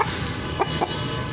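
A jet black aseel rooster gives two soft, short clucks over a loud, steady outdoor background hum, close by and without talk.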